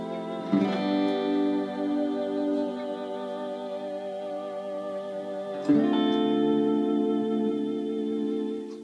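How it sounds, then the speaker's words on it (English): Two sustained guitar chords, each held and ringing on smoothly without decay, the second struck louder partway through. "Step down on it, it's like your sustain pedal."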